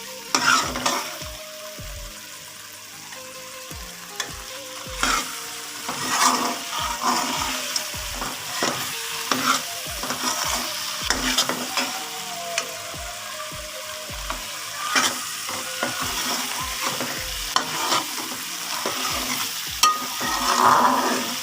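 Potatoes coated in masala turned over in a pan with a spatula: regular scraping strokes roughly twice a second over a soft sizzle, with a faint steady tonal hum in the background.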